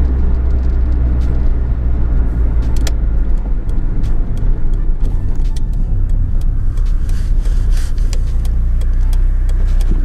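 Ford Fiesta Mk5 Zetec-S, a light small hatchback, driving with a steady loud engine drone and low road rumble throughout, heard from inside the cabin with no talking.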